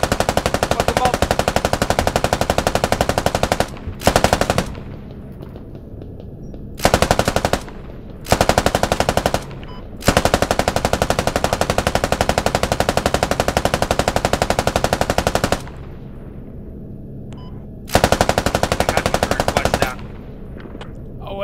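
A helicopter door gunner in Squad with the Dynamic Direction mod fires a machine gun in long, loud, sustained bursts. The bursts are broken by brief pauses and follow a steady rapid cadence throughout, close at hand, with no talk.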